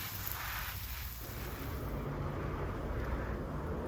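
Wind buffeting the microphone, a constant low rumbling roar with no voices.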